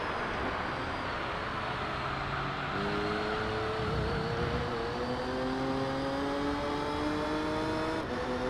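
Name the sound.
Dodge Viper race car passing, from the video game Gran Turismo 3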